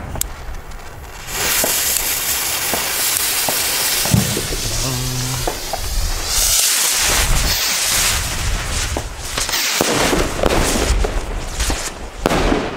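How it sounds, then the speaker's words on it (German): Argento Delta 1200 rockets, 12-gram fireworks, launch one after another in quick succession. Each gives a whooshing, crackling sizzle followed by sharp pops and bangs, loud and close, with crackling tails overlapping across the burst. "also wirklich ein schönes Raketenset, kann man echt empfehlen für 12 Gramm Raketen"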